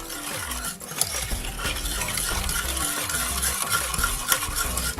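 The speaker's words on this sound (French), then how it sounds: "Ajoutez alors le beurre fondu dans votre saladier et bien remuer l'ensemble à l'aide de votre fouet" Melted butter being whisked into a mixture in a mixing bowl for Kignon biscuit filling, a steady close scraping and stirring with a rhythmic churn and small clinks, continuous throughout with no talk.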